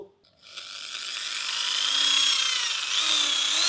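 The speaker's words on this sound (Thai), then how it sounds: "สว่านเนี่ยมาเจาะด้านล่างนะเจาะเนี่ยเนี่ยตรงเนี้ยเจาะด้านล่างสองรู" A power drill bores holes through the lower part of a hydraulic sliding shade-net curtain for a garage, giving a loud, sustained, rising whine that runs steadily for several seconds after a brief start, with no talking.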